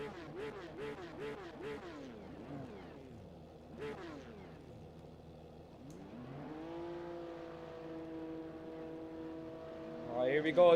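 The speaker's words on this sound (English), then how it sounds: "everyone's revving it up for the start of this race" Race car engines revving on the starting grid of a racing video game, rising and falling whines repeated in bursts, then a sustained high engine drone building toward a louder roar at the end.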